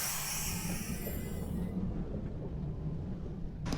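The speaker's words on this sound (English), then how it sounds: "This is a Manhattan-bound 5 train." A Manhattan-bound New York City subway 5 train in motion gives a steady low rumble and rattle of wheels on track, with a hiss that cuts off partway through, heard from inside the car.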